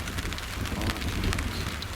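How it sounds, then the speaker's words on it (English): Rain falling on a lake during a fishing trip in Maine, a steady close patter of drops on water and surfaces, continuous and fairly soft with no voices. "A little bit of raindrops don't stop Ed."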